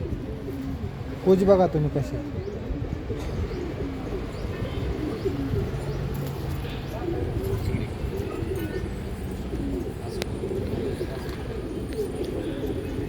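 White pigeons with black eyes coo in a loft, a soft steady cooing running through the whole stretch under someone talking nearby.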